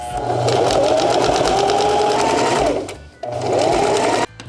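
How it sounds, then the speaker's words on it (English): A sewing machine stitches 1/2 inch along the edges of upholstery fabric, a loud, close, steady motorized whir that runs for about three seconds, stops briefly, then starts again. "Now I'm just going to sew 1/2 inch in all along the edges."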